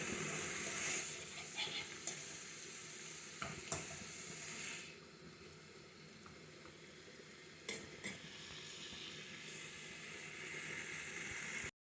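Vegetables stir-fry in a pan for a Jamaican brown stew pork meal, a continuous bright sizzle broken by occasional scrapes and clinks of the stirring utensil, close and alone.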